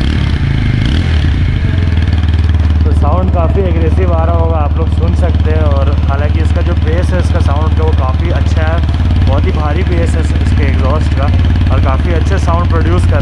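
A 2020 BS6 TVS Apache RTR 160 4V motorcycle exhaust runs at a loud, steady idle throughout, with someone talking over the engine the whole time.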